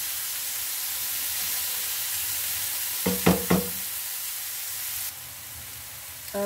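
Tomatoes cooking in a pan for an Italian-style egg dish give a steady, soft sizzle throughout, with a few brief stirring knocks midway before the hiss quiets slightly.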